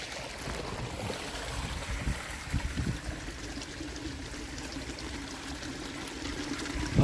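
Irrigation water flows through an opened inlet into a sugarcane field, a continuous nearby gurgling rush with occasional small splashes and no talking.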